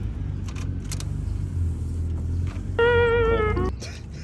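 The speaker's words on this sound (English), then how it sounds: "You got wipers again" Mazda Miata windshield wipers running on a used wiper motor, with rustling handling sounds and a low idle hum before a loud whining motor tone starts and runs for about a second, close by.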